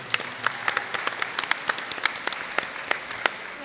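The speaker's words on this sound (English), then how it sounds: "Can we give them a round of applause?" A small audience claps for panelists at a sustainable development presentation, sparse and scattered, with individual claps clearly separable at moderate distance.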